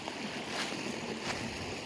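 Water rushes steadily over a small backyard stream waterfall the day after a major 2023 flood, a close, continuous broadband wash with no voices.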